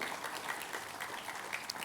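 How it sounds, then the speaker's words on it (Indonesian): Steady applause from a church congregation praising God during a sermon service, a dense, even wash of many hands clapping together without pause. "Tepuk tangannya boleh yang paling meriah buat Tuhan kita."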